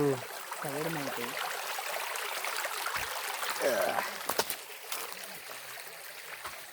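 A small stream channel near Bheemunipadam waterfall flows with a faint, steady trickling wash, joined by a brief voice at the start and a few sharp knocks partway through.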